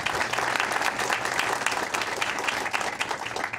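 Audience applause at a school board of education meeting, a steady, dense burst of clapping from a room full of people, lasting several seconds at moderate level with no talk over it.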